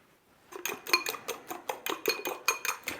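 A fork beating two eggs in a bowl for an omelet, giving a quick, steady run of clinking taps against the bowl, close and fairly quiet, with no talking.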